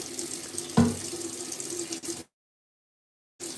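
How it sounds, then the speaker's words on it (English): Tap water runs steadily into a sink for face washing, close and even, with a brief knock partway through before the flow cuts out and then briefly resumes. "Okay, now I can wash my face."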